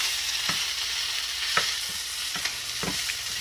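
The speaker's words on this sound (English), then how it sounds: "I'm cooking the shrimp." Shrimp frying in a pan, making a steady close hiss of sizzling oil with several sharp spatula taps and scrapes as the pieces are stirred and flipped, and no voices.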